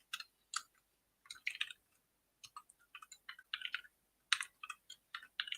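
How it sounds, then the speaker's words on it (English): Typing on a computer keyboard in irregular bursts of quick clicks with short pauses between, fairly faint and close, no talking. "I'll type these out and then explain"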